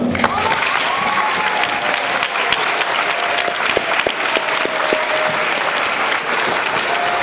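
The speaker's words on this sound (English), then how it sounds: "Join me in a round of applause for the members of the Rochester Joint Schools Construction Board, Tom Richards and Tom Renato." An audience at a school dedication ceremony applauds for the construction board members, a dense continuous wash of clapping at close range with faint crowd murmur.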